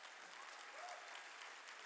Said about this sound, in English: Give those a round of applause